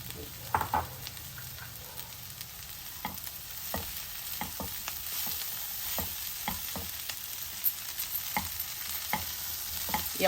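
Finely chopped potatoes with plenty of curry leaves fry in a pan, a constant sizzle with repeated scraping stirs throughout.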